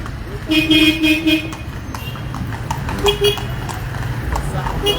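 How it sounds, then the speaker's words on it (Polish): Two short horn toots ring out near the start, then another pair around three seconds, over steady street traffic rumble and clip-clopping from a horse-drawn carriage in Alexandria, with voices nearby. "Wszyscy trąbią, ten biedny koń."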